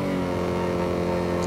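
A 1958 Corvette C1 with a 283 small-block V8 rated at 301 horsepower, driven at the Nürburgring in Gran Turismo 7, holds a steady, loud, droning engine note throughout, with no voices.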